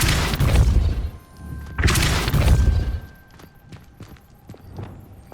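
Depulso force-push spell blast in the Hogwarts Legacy video game, heard as two heavy, loud whooshing bursts close together, followed by scattered light clattering and knocks.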